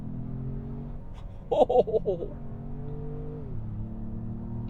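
A 2025 Ford Maverick Lobo engine revs in a few quick, close blips, then settles to a steady idle hum, with a brief exclamation from a voice.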